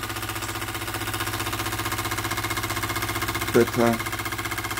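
An EngineDiyShop Retrol SE 02 live steam engine runs with a fast, regular mechanical chuffing beat, steady and close, while a voice briefly cuts in near the end.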